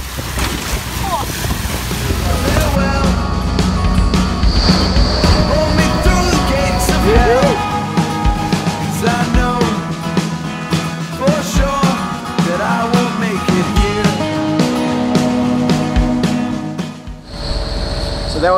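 A 75-horsepower Yamaha outboard motor drives a sailboat upwind through 20 to 25 knot wind and choppy seas, a steady loud drone mixed with wind buffeting and water noise. A voice is heard faintly at times.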